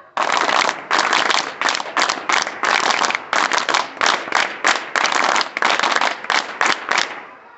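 Students at an NSS winter camp doing the rhythmic NSS group clap, a crowd clapping in loud unison in a fast patterned rhythm of bursts and short gaps, ending abruptly.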